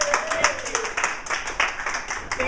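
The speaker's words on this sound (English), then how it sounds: "Can we get a round of applause for the volunteers?" Brief burst of audience applause for volunteers, a scattered patter of hand claps with a faint voice drifting beneath it.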